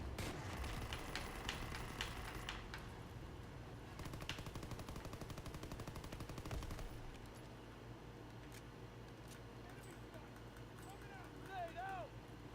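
Gunfire in Call of Duty WWII, rapid machine-gun bursts and rattling shots layered over a dense battlefield din, fairly distant and low in level throughout.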